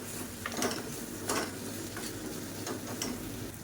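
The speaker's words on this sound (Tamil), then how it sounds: "இந்த ஸ்டேஜில் எல்லாத்தையும் பரட்டி விட்டுக்கலாம்." Cauliflower masala stirred in a frying pan, a quiet low sizzle with a handful of soft scraping strokes at irregular intervals, fairly faint and without any speech.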